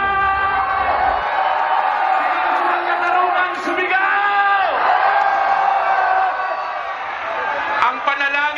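A huge protest crowd at an anti-corruption rally in Rizal Park, Manila, roars and shouts continuously, with whoops and cheers rising over a loud, dense wall of voices.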